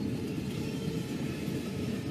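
A Norfolk Southern freight train rolls past close by, a steady, dense low rumble with continuous wheel and car noise that holds level throughout, with no talking.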